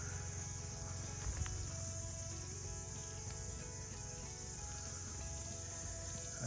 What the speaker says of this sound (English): So peaceful, hearing the cicadas, all those tohu of summertime.